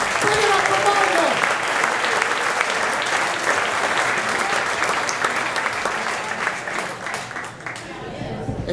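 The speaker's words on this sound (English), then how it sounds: "Let's give a big round of applause" A stand-up comedy crowd applauds steadily and loudly for several seconds, the clapping thinning slightly toward the end, with a few voices under it.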